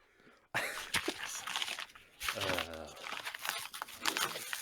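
A subscription box of monthly jerky being opened, with close crinkling and tearing of packaging in rough bursts, a few rustles and faint throat noises in a quiet room.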